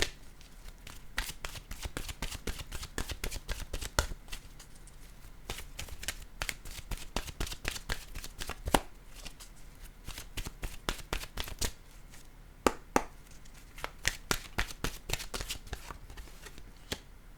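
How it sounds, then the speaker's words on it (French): A deck of oracle cards is shuffled over and over by hand, making quick riffling and flapping bursts in an irregular rhythm. The sound is close but fairly soft, with no speech. "maintenant mélanger mes cartes de mon jeu, mon oracle de l'âme intuitive"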